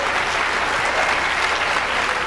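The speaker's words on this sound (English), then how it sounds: "Colorado, thank you so much for giving a loving applause to these folks" An audience at the 16th Annual Henry Awards theatre ceremony in Colorado applauds in a dense, steady wash of clapping that holds at the same loudness from start to finish.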